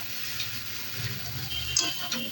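Meat fries in spiced oil in a pan while being stirred, making a faint, uneven sizzle with a few small scraping clicks near the end and no talk.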